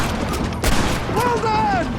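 Gunfire in the video game Red Dead Redemption, a sharp loud shot followed by game sounds and a faint tonal effect, with game voices present around it.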